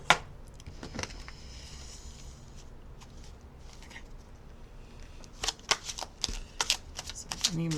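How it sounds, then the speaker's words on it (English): Ideal Soulmate Tarot cards being shuffled and pulled, soft papery riffles and slaps close by, building to a flurry of crisp flicks near the end, with quiet talk in the background. "I am going to just go ahead and randomly pull some cards"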